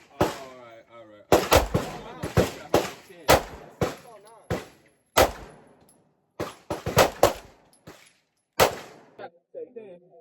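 Sharp 9mm handgun shots at an indoor gun range crack out in loud irregular bursts, some rapid clusters and some single reports, with short quiet gaps between them and voices talking in the background.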